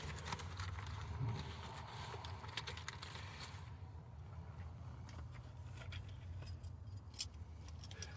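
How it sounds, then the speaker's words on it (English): Keys jangle faintly and continuously inside a 2016 Ford F-550 Thor Chateau Super-C motorhome with a Power Stroke engine, with a sharper metallic clink near the end and no talk. "Let me get those keys back out."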